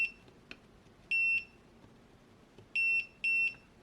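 Three short, high electronic beeps from a continuity tester checking a faulty Canon Ixus camera: one single tone, then a pair close together, over faint background noise, with a small click early on.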